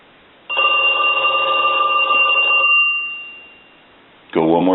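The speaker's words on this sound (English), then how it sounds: "I'm going to go ahead and ring Mickey. I'm going to let that go a couple times." Mickey Mouse novelty telephone with its bell ringing electronically in a steady trill for about two seconds, fading out, then starting again at the end, with no talk over it.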